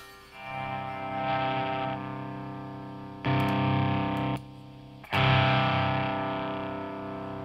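Heavily distorted electric guitar through a Peavey 6505-series tube amp with a Tube Screamer-style pedal rings out in sustained chords and notes, thick and saturated with a loud amp sound, played in three separate bursts.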